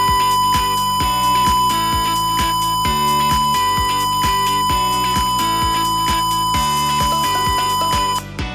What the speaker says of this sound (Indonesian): maka buzzer berbunyi.